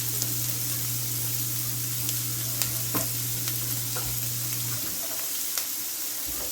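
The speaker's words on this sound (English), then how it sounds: "So, oil, get hot. Hot oil. Just brown your beef, drain your beef," Ground beef browns in hot oil in a pan with a steady close-up sizzle, a constant frying hiss broken by small pops and occasional stirring, while a low hum runs underneath before cutting out.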